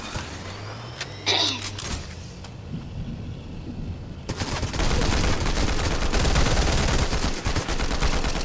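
Fortnite gunfire: a few scattered shots and clanks at first, then rapid sustained automatic fire in dense bursts, loud and close, with no talking.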